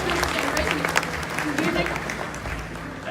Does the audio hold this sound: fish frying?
no